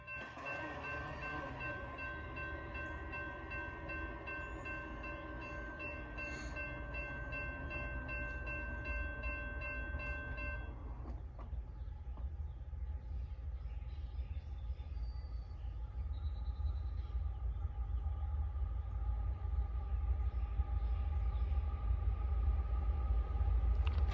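CSX freight train approaching at Marion, North Carolina, starting with a sustained horn blast for about ten seconds, then a growing rumble of locomotive and rolling wagons that swells louder as it nears.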